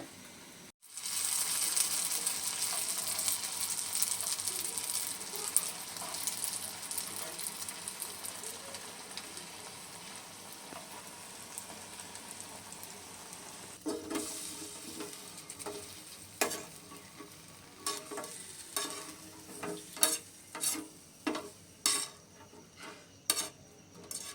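Jalebi batter made from flour fries in hot oil with a steady, fizzing sizzle close by; later the sizzle drops back and a series of distinct clinks and splashes from handling the pieces punctuates the frying.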